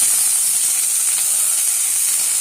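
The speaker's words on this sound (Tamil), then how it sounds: "கழுவி வச்ச கீரையை வந்து இப்போ போட்டுருக்கோம்." Washed drumstick leaves drop into a hot pan with onions, giving a loud, steady, close sizzle with a bright hiss that holds without pause.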